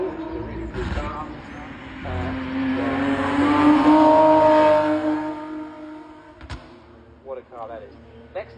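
At a Gumball 3000 hill climb, a convertible car accelerates past, its engine swelling from a low rumble to a loud, rising roar before fading, with a commentator talking over parts of it.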